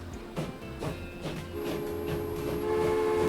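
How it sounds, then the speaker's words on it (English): Train moving along track in the simulation game Transport Fever, with a steady rolling rumble, periodic clacks and a sustained horn-like tone building slightly louder toward the end. "that should allow the train to go through on this side,"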